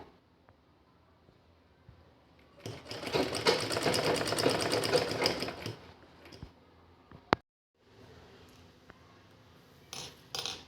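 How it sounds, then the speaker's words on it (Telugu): A sewing machine stitches lace onto the edge of a cloth table cover, running in one steady burst of about three seconds before stopping, followed by a few soft clicks and handling noises. "ఇలా సెట్ చేసుకుని ఇక్కడ వరకు స్టిచ్ చేసుకోవాలి క్లాత్ బయటికి రాకుండా"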